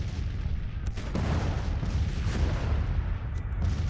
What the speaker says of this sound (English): There's enemy artillery out in front.